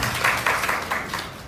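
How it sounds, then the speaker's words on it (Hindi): A small audience at a devotional talk claps briefly, a short burst of several sharp, close hand claps over about a second and a half. "वेरी गुड, तालियां।"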